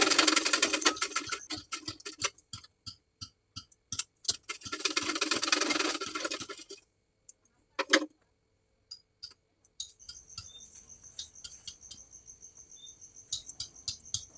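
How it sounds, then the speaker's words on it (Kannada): Sewing machine stitching the neck of a blouse, rapid mechanical bursts of stitching in the first half, then scattered clicks and brief runs with quieter handling sounds, no talking. "ಈಗ ಇದನ್ನು ಕರೆಕ್ಟಾಗಿ ಇಟ್ಟು ಮಧ್ಯದಲ್ಲಿ ಒಂದು ಹೊಲಿಗೆನ ಹಾಕ್ಕೊಳ್ತಾ ಇದ್ದೀನಿ"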